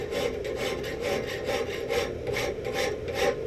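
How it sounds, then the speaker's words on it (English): Rhythmic rasping strokes of a hand file flattening a steel plate in a blacksmith shop, about a dozen steady back-and-forth passes, close and loud with no talk. "You can see that I'm filing it, and it's filing really easy."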